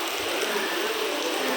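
Heavy rain pours steadily at the Tiruchendur Murugan temple, a dense, even hiss of drops hitting surfaces that holds constant and close throughout, with no voices.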